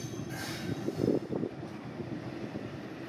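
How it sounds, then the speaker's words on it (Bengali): Commuter train at a railway station in Shibchar, Madaripur, heard as a steady rumbling roar with a brief screech of wheels, fairly distant and continuous throughout. "মাদারীপুর শিবচরে রেলওয়ে স্টেশনে এর মধ্যেই আনুষ্ঠানিকভাবে উদ্বোধন হয়েছে ভাঙা ও চন্দনা কমিউটার ট্রেন"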